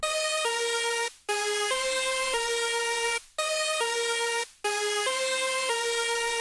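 A bright synth lead preset, Gold Leaf, plays a simple, repetitive melody of sustained notes following the chords, briefly cutting out to silence three times between phrases.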